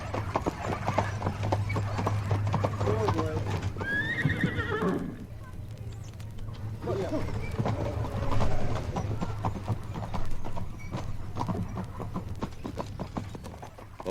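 Horse-drawn carriage arriving at a village gatehouse, hooves clip-clopping steadily close by, a horse whinnying partway through, with a low hum beneath and faint voices.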